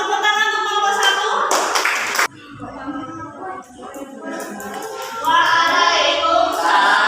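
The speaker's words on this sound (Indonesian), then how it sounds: "Tepuk tangan untuk kelompok 1." A class of students claps hands for group 1 during a Qur'an and Hadith lesson, loud bursts of clapping mixed with voices calling out together.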